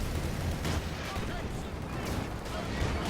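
US mortar fire in Company of Heroes 2, dull booming impacts blending into a dense, noisy battle soundscape with faint commentary voices mixed underneath.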